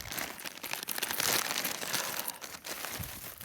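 Double-bagged plastic shipping bags crinkle and rustle steadily, up close, in a continuous dense crackle with no talk.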